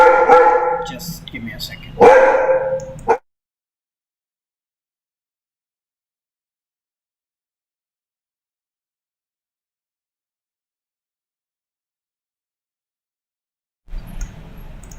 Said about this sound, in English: that was my cute pup here and he's making a lot of noise